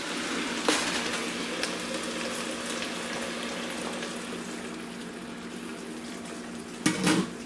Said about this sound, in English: you guys can hear the water boiling